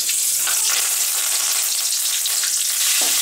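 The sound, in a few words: cinnamon and green chilli paste frying in hot oil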